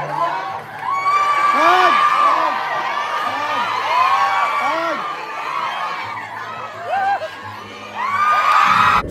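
Crowd of overseas Filipino fans at a meet and greet in Hong Kong, shouting, whooping and cheering loudly and continuously, with rising excited yells and chanting throughout.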